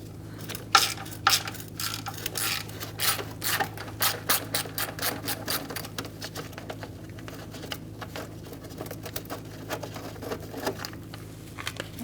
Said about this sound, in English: Using a 10mm socket, we're going to remove this bolt.